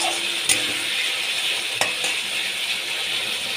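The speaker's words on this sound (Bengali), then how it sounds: "ভালো করে মশলাটা কষিয়ে নিতে হবে।" A spice paste of ginger, green chili, Kashmiri chili powder, cumin powder and tomato sizzles steadily in a pan, with two sharp clinks of a spoon against the pan over the continuous close frying hiss.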